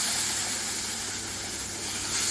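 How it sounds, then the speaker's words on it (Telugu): Water poured into a pan of roasted semolina, a steady broadband hiss and sizzle that stays fairly even and loud throughout, with no talking. "ఇదిగోండి వాటర్ పోస్తున్నాను."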